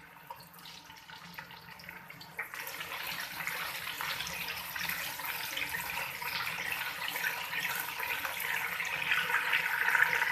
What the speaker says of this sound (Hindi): हल्का सा हम इसके अंदर थोड़ा सा, मतलब 1 टेबल स्पून के करीब पानी डाल देंगे, ताकि ये डालने के साथ जले ना और अच्छे से भुन जाए